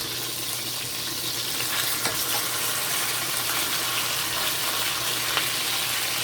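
Snapper fish frying in a pot, a steady bright sizzle of hot oil with occasional pops and crackles, close and continuous without any talk.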